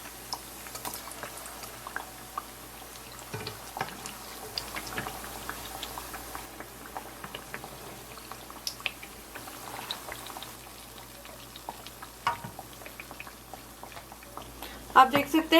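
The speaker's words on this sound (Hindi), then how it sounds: "इसी तरीके से मैं अपनी बाकी टिक्कियों को भी डीप फ्राई कर लूंगी" Bite-size sweet tikkiyan deep-fry in hot oil, giving a quiet, continuous bubbling and light crackle with scattered clicks, a voice faintly in the background, and a brief clatter near the end.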